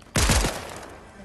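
Pistol fire in the video game Fortnite: two or three quick close shots in a short burst, then a fading tail.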